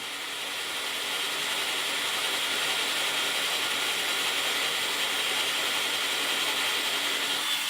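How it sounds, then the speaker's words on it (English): An electric drill bit grinding through the thick steel wall of a shipping container: a loud, steady, harsh whirring and scraping drone that continues without pause, close up and alone. "Somewhere in between breaking this drill bit and getting through."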